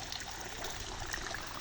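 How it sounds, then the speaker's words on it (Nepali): Water runs steadily from an organic spring spout into a stream at Sukwa in Aalubari, Sandakpur, Ilam, a close, continuous rushing splash with no voices. "हिजोको त्यो धारामा चाहिँ अहिले यस्तो धारा बनाइसकेको छ। यहाँ अर्ग्यानिक धारा हो"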